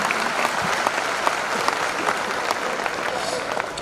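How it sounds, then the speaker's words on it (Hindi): Applause from an audience at a goal-setting seminar, steady and dense clapping throughout, moderately loud with a full-room crowd feel and no talk over it. "मैं चाहता हूं एक ताली आज इस मंच से बीसी छाबड़ा जी को धन्यवाद देना चाहता हूं कि उन्होंने मेरा गोल सेट किया।"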